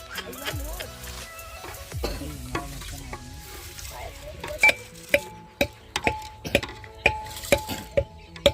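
Rice goes into a hot frying pan at a village fish party, sizzling and hissing under repeated metal clinks and scrapes of a spoon against the pan, with people talking nearby.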